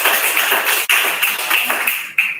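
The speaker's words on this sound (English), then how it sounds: "Applause for Shannon." Audience applause at a Christmas-edition data engineering meetup in Sydney, given for a speaker. The clapping is continuous and fairly loud, with a thick wash of overlapping claps and a few sharper individual claps standing out.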